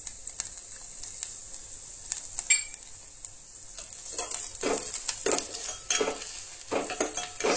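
A utensil scrapes and stirs ginger garlic paste with turmeric in a hot pan, with a low sizzle underneath and the stirring growing busier and more rhythmic toward the end.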